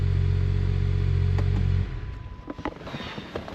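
A car engine idling after new spark plugs and coils were fitted: a steady low hum that suddenly drops to a quieter, uneven idle with faint clicks and clatter, close by with no talking.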